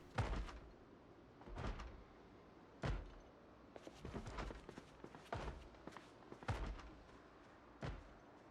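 Zombies bang on a door or fence in the 28 Years Later video game: heavy, irregular thuds, about eight of them, fairly close and spaced a second or so apart, with no voices.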